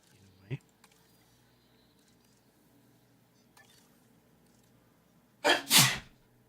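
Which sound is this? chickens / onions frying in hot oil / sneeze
sneeze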